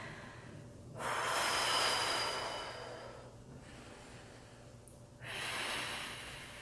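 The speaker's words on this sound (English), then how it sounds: "Breathing, deepening your inhales and elongating your exhales." Deep yoga breathing during a beginner flow: two long airy breaths, a big inhale then a slower exhale, each lasting a couple of seconds with quiet gaps between, close to the microphone and with no talk.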